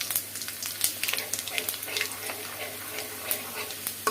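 Garlic and a pinch of panch phoron crackle and sizzle in hot oil, a busy spattering hiss with frequent sharp pops, close and continuous.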